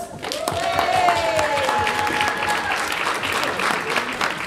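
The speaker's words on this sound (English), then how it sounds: "So give a round of applause." An audience at a Slimming World live event applauds a prize winner, dense clapping with cheers and whoops on top and some voices underneath, holding steady throughout.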